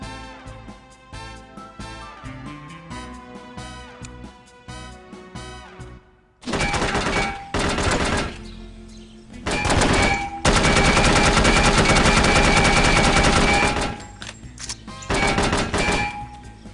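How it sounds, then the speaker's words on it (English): Heavy automatic gunfire in the No One Lives Forever shooter game breaks in after soft background music fades. It comes as loud, sustained bursts that stop and start repeatedly, with one long continuous volley near the end. "Just kind of shooting through the floor."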